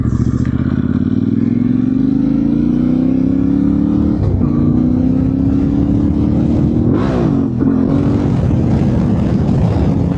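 A Yamaha Tenere 700 motorcycle rides along a road in Scotland, its engine loud and close with steady rising revs and a couple of quick gear-change dips, heavy wind noise around it and no talking.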